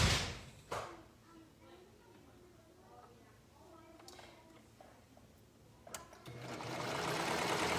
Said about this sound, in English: I'm gonna sew the side seams first, and then I'll sew this seam